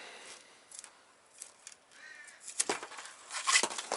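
A worn factory power steering hose on a VW MK4 snipped with a sharp cutter, a few brief crisp snips up close, with a louder cluster of cuts near the end.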